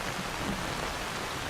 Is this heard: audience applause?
no